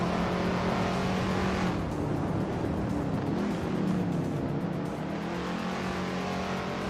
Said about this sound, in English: the race kicks off at Jerez GP with vintage supercars